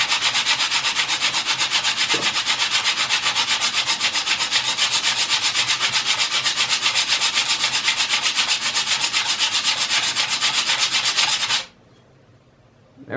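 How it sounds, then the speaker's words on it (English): The sole of a Stanley Corsair hand plane, chipped at the front and badly pitted, is rubbed back and forth on sandpaper, giving a steady, loud rhythmic rasping scrape that runs for about eleven seconds, then stops abruptly into near silence. "We're just going to rub this back and forth. Just trying to see if we can get this flattened out."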